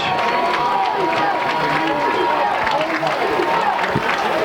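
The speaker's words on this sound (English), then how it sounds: "Carroll crowd, the Neon Nation chanting defense here below us." A stadium crowd at a high school football game between East Noble and Carroll cheers and chants in a steady, continuous roar, with a commentator's voice over the noise.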